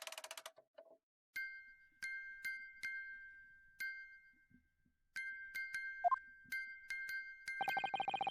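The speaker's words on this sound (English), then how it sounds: "the sound emanating from this music box is not supposed to be music" A music box in The Great Ace Attorney video game plays sparse, bright chiming notes one at a time with gaps of silence, followed by a rapid tinkling run at the end.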